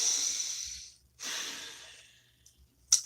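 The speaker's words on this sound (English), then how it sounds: "take a nice deep breath" Two slow, breathy exhalations of a deep breath, each a soft airy rush lasting about a second, followed by a faint short sniff near the end; close and quiet, with no talking.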